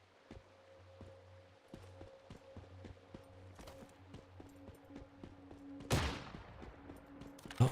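Gunfire in the survival shooter game Once Human, a run of sharp shots in rhythmic bursts over a steady low engine drone, ending in a louder blast near the close.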